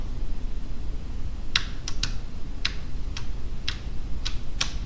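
Sharp computer keyboard clicks, around eight irregular taps on the left arrow key, sound close over a steady background hum, with no speech.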